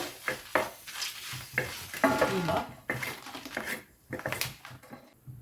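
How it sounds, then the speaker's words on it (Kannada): Red Byadagi chillies fry in coconut oil in a clay pan, a light crackle under repeated spoon stirring and scraping against the pan, close and moderately loud, with no talking. "ಕೆಂಪು ಮೆಣಸು ಸ್ವಲ್ಪ ಫ್ರೈ ಮಾಡುವ"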